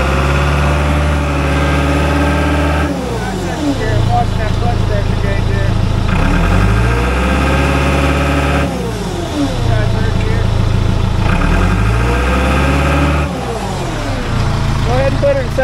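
A heavy equipment diesel engine at an auction inspection is throttled up in gear against the brake during a transmission clutch test, growling loud and close and rising and falling in repeated surges.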